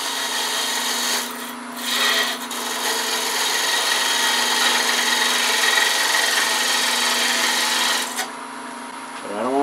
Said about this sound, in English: I'm going to go ahead and part it down just a little bit more